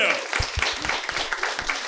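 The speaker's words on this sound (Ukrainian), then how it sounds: "дайте Олексію трошки оплесків!" Brief burst of scattered audience clapping at an improv comedy show, with a voice talking over it, close and moderately loud.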